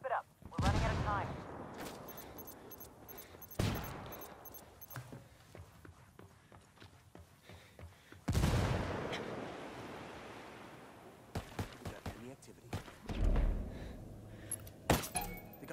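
Bursts of gunfire and explosions in a shooter video game, heavy blasts with long decaying tails alternating with short rattling volleys, some distant and some close, with crackling between them.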